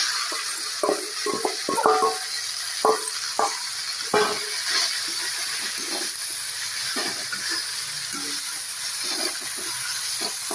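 Water spinach sizzles in a hot wok under a steady hiss, broken by repeated scraping and tossing clatters from a spatula, busier at the start.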